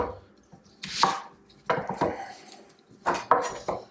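A knife chops ingredients for homemade chicken soup on a board, giving sharp, close, irregular cuts in small clusters with short pauses between them.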